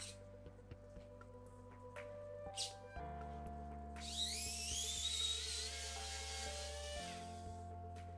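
Small electric screwdriver from a WORX WX240 or Xiaomi Wowstick kit driving screws, giving a faint high whine with a rising pitch sweep over a low motor hum, plus scattered clicks, all fairly quiet and close.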